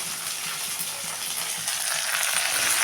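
Mixed vegetables (beans, carrot, broad beans, brinjal and okra) sautéing in a pan for kadamba sambar, a steady close sizzle with faint stirring scrapes throughout, growing slightly louder near the end.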